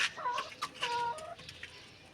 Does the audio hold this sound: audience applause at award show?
no